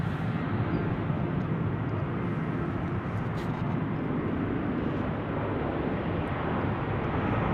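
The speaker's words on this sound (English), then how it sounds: "Delta 56 headed to Paris on an A330neo." A Delta Airbus A330neo heavy jet bound for Paris passes over Salt Lake City airport as a loud, steady broadband engine roar that stays constant throughout, with no voices.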